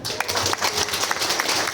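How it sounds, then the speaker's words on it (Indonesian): Audience applause at a partner training session, a steady wash of clapping from a crowd with a few sharper individual claps standing out, fairly close and continuous throughout. "Tepuk tangan dong"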